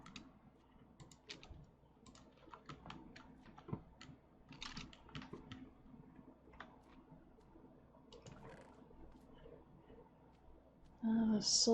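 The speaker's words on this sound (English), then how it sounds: "My hands are just cold enough to make typing difficult." Soft, scattered keystrokes on a computer keyboard during a gaming session, fairly quiet and irregular, with a louder burst of sound at the very end.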